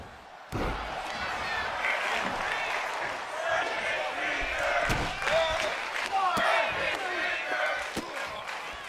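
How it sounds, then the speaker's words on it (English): In the WWE 2K24 wrestling video game, an arena crowd roars and chants continuously, loud and dense, with sharp slams and impacts from the ring cutting through at intervals. "And the crowd chanting, "Snap his finger,""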